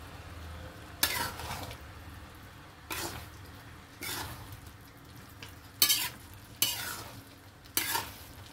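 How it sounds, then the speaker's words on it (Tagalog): Pancit lomi soup with chicken liver is stirred in a pot, producing soft scraping and several sharp ladle clinks against the rim at irregular intervals, quiet and close over a faint bubbling background, with no voices. "Para natin siya haluin."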